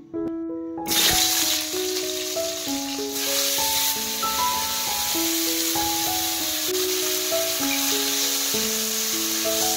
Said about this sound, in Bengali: এখানে কড়াইতে তেল বসিয়েছি, প্রথমে আলুটা ভেজে তুলবো